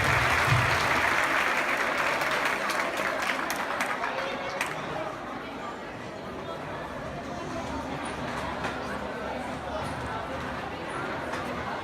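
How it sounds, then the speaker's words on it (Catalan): An audience at a school festival claps loudly after a student song performance. The applause is dense and strongest at first, then thins and slowly fades while people talk underneath. "Un fort aplaudiment"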